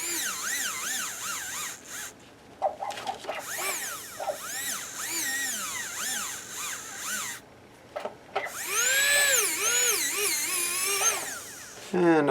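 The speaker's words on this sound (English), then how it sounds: "what I like to do is take a slightly larger burr" A dental burr drills and enlarges a hole in an acrylic surgical guide, giving a high whining grind that rises and falls in pitch with load across several bursts, separated by brief pauses.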